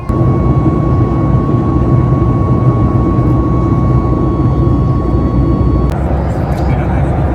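Steady, loud engine roar fills an airliner cabin in flight, a constant broadband drone with a faint tonal whine running through it, continuous for the whole stretch.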